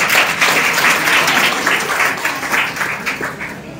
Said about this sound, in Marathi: टाळ्या टाळ्या